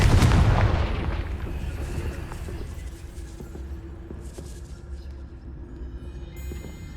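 A Confringo spell in Hogwarts Legacy blasts at a gatehouse, giving a heavy booming explosion at the outset that rolls into a long rumbling decay with scattered debris.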